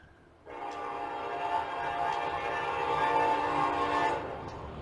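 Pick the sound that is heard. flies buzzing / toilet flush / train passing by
train passing by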